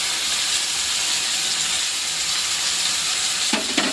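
Garlic, cumin and turmeric sizzling in hot oil in a pan, a steady, dense frying hiss throughout with a couple of brief scraping stir sounds near the end, close and alone without talk.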